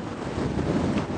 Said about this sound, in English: The wind is pretty much due west at the moment. We've seen over 30 knots.